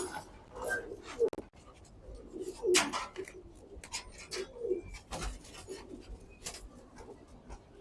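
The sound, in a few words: pigeons cooing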